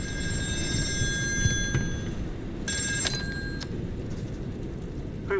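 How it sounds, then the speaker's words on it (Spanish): An old telephone rings in the video game Still Wakes the Deep, set on an oil rig, giving two bright ringing bursts over a constant low mechanical rumble, moderately loud with no speech. "Teléfono."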